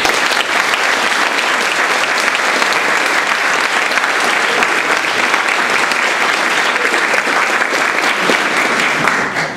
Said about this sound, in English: Please join me in thanking the faculty with a round of applause.